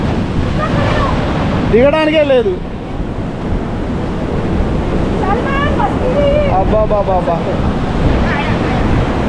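Heavy monsoon surf pounds Anjuna Beach in Goa, a steady loud roar of crashing waves with wind buffeting the microphone throughout, while a man exclaims in Telugu over it.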